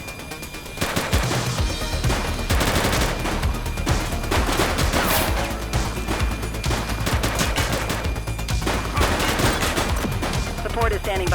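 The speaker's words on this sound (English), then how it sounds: "Shots fired!" Rapid bursts of gunfire ring out in the police game The Precinct, loud and sustained across the whole stretch, with sharp repeated cracks over a dense, busy game mix and faint voices.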